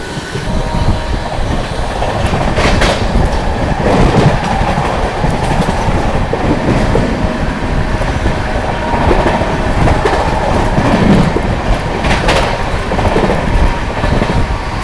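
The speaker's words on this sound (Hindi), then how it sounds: "थोड़ी देर में ट्रेन अपनी हाथरस जंक्शन को स्किप करेगी" The Sealdah New Delhi Rajdhani Express runs through Hathras Junction with a loud, continuous rumble and rhythmic clickety-clack of wheels over rail joints, plus brief metallic squeals, heard from on board.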